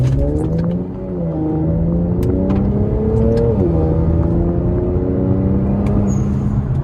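An Infiniti Q60 engine with HKS blow-off valve and AMS intakes revs in sport mode and climbs through rising pitch sweeps, shifting once midway, loud and close, with a steady road drone underneath.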